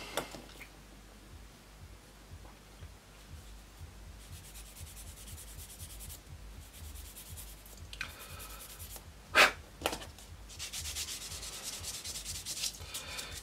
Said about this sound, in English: This one just needs a little bit of sand just to soften it up.